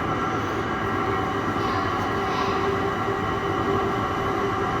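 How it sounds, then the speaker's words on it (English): A steady mechanical rumble and hum of the Cairngorm funicular railway car in Scotland arriving at the top station, continuous and fairly loud, with no voices. "Just looking at the window and just going to watch the the train coming up."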